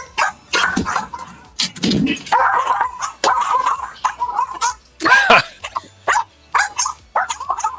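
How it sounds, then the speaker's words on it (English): Three pet dogs bark repeatedly in short, loud bursts close by, with some coughing or throaty sounds mixed in and no clear speech. "My 3 pet dogs have an amazing trick of no matter how many years they've known you, they will still bark at you all day long."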